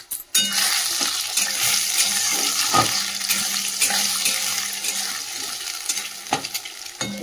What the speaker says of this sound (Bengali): চলো, তেল তো গরম হয়ে গেছে, ডিমটা আগে ভেজে তুলে নিই